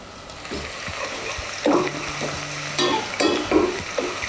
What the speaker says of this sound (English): Now I can hear it sizzling.